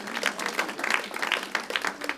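A church congregation clapping, a lively burst of scattered applause with uneven rhythm from many hands throughout, with some voices mixed in.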